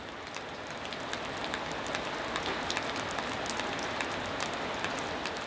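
Steady rain falls and patters on a mountain hermitage, with scattered close drips ticking over a constant hiss.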